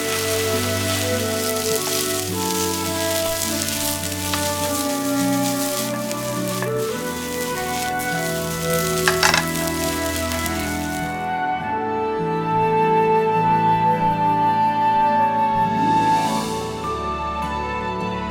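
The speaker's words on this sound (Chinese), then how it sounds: "最后把拌好的粉丝下锅，然后不停地翻拌" Garlic-coated vermicelli stir-fried in a hot wok gives a continuous dense sizzle and crackle under a steady musical backing, with the high frying hiss cutting out partway through.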